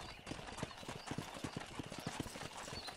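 Steady clip-clop of horse hooves trotting at a brisk, even rhythm in the video game Red Dead Redemption, fairly close and clear, with faint background ambience.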